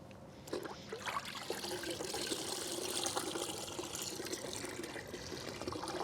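A sponge dunked into a bucket of rinseless car wash solution sloshes and trickles, a continuous wet gurgle and dribble of water, close and moderately loud, with no talking.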